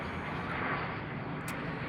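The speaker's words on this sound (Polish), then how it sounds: "a tam samolot leci" A passing airplane heard from an outdoor spot among palm trees, a steady broad roar of distant engine noise that holds at a moderate level for the whole stretch.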